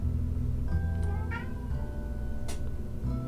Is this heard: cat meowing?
yes